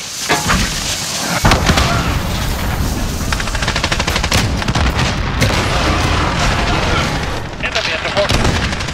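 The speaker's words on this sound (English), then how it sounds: "Enemy cruise missile." Explosive strike and heavy gunfire in a multiplayer flag-capture war video game, with dense continuous blasts and rapid shots filling the whole stretch, loud and close, with a voice briefly present.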